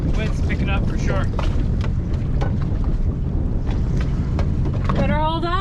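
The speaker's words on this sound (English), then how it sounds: "the wind's picking up for sure" Strong wind roaring across a microphone aboard an anchored boat in choppy water, a steady loud rushing that persists throughout, with voices talking over it.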